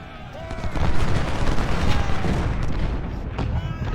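Continuous battle din in Ultimate General: Civil War, with dense musketry crackle and booming artillery rumbling together at middle distance, heavy and unbroken, with someone talking faintly underneath.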